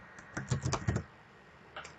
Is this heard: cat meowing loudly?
no